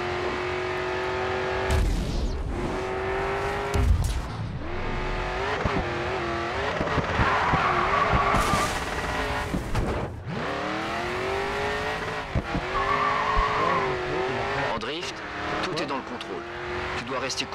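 Race cars in the video game Grid 2 roar through acceleration and lift-offs, with repeated engine revs, gear changes and sharp tire squeals from skids across the stretch.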